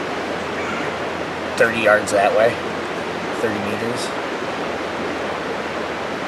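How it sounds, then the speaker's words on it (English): A strongly running creek at an Adirondack base camp makes a steady, loud broadband rush of water throughout, with someone speaking briefly over it. "creek's been running so strong"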